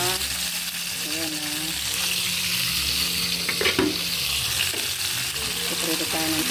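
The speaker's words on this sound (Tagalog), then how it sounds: "nagpiprito tayo ng tilapia" Tilapia frying in a pan of hot oil, a steady broadband sizzle throughout with clinks and some background voices, fairly close and continuous.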